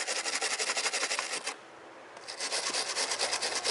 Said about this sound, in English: So we're going to scuff it up just a little bit.